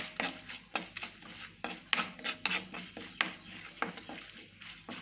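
Spoon scraping and tapping in a pan while chili, fenugreek and asafoetida powders are stirred into onion pickle, a series of quick close clinks and scrapes, fairly faint, with no talk.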